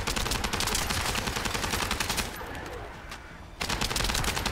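Sustained automatic gunfire in The First Descendant, a dense rattling stream of shots that drops out briefly, then resumes at full loudness.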